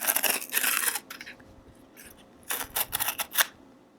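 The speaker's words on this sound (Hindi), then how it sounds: "तो यहाँ पे जो सील थी वो हमने हटा दिया।" Seal on a Google Home Mini box being torn off during an unboxing: close, crisp tearing and crackling bursts at the start, a quiet pause, then a second cluster of sharp rips and crinkles.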